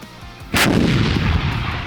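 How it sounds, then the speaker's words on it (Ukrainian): A single loud artillery blast from Ukrainian guns near Horlivka, Donetsk region, booms suddenly and leaves a long rumbling roar that fades slowly, with no voices. "Це зараз наша артилерія."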